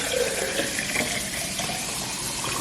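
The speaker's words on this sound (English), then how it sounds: "You can see for yourself just how thick this coconut milk is. It pours well." Thick coconut milk from a Kuvings Auto10 juicer pours in a steady, continuous liquid stream, a close and even splashing flow with no talking.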